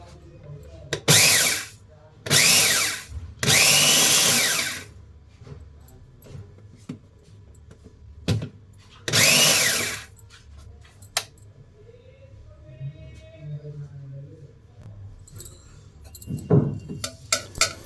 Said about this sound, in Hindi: अब मूढ़ी को, जिसको मैंने घी में फ्राई की थी, उसे भी हमें क्रश कर लेना है, दरदरा कर लेना है।